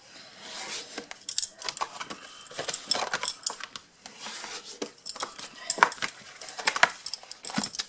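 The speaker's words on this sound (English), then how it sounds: "fold and burnish" Scored cardstock being folded and burnished, with a series of crisp scraping and rubbing strokes and small taps, close and fairly quiet, irregular in rhythm, no talking.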